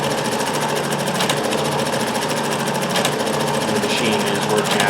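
A Dressmaker 2402 cam sewing machine stitches fabric, a loud, fast, steady mechanical chatter of needle strokes running continuously at close range.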